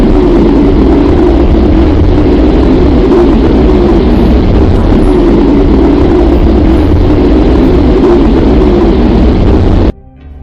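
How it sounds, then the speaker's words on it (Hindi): A space recording presented as the sound of Earth: a dense, steady roar like rushing wind or distant engine noise, loud and unbroken for about ten seconds before cutting off abruptly. "अब हम आपको अपनी पृथ्वी की आवाज को सुनाएंगे,"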